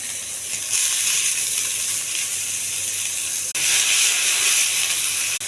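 Mustard seeds, chana dal, curry leaves and chopped onions hitting hot oil, a loud continuous hissing sizzle that surges, briefly drops out near the middle, then returns even stronger.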